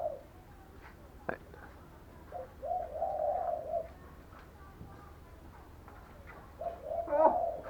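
Birds call in short cooing bursts with pauses between them, faint and somewhat distant over a quiet outdoor background.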